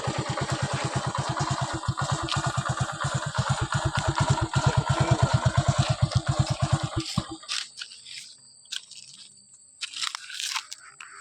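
A 2019 XL 100 self-start moped engine idles with rapid, even thumping pulses close by, then cuts off after about seven seconds, leaving only quiet clicks and handling noises.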